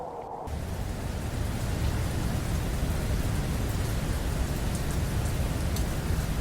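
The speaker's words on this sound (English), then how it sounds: "The storm is growing." Storm rain in the video game Trace pours down in a dense, steady roar that starts abruptly and continues loud and unbroken, with no talking.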